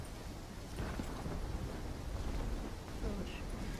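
A violent thunderstorm in Call of Duty Black Ops 3, in the mission Dans les ténèbres, sounds like a dense, steady roar of wind and rain with low rumbling throughout, loud and continuous.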